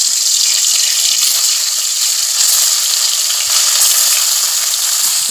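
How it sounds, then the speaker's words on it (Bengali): China puti fish fry in hot oil in a wok, giving a loud, continuous crackling sizzle throughout with no voices. "এখন আমি মাছগুলো ভেজে নেব।"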